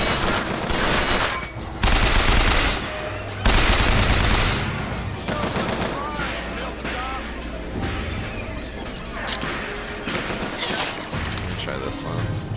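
Gunfire in the video game Bioshock Infinite: dense rapid bursts of shots, crashes and explosions crowd together in loud sustained combat, with a voice talking over it.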